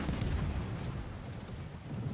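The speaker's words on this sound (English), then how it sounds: "Battleship shooting." Battleship guns firing in World of Warships, a dense low rumbling boom from naval artillery that rolls through the whole moment with no talk over it.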